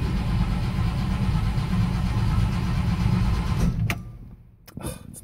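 A 1961 Cadillac, cold for three years, runs with a dense, rough engine rumble for several seconds before cutting off abruptly, followed by near silence and a couple of brief clicks and knocks.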